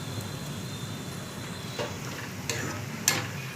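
Mustard seeds sizzling in hot oil for a rasam tempering, a steady close frying hiss with a few sharp pops and crackles toward the end.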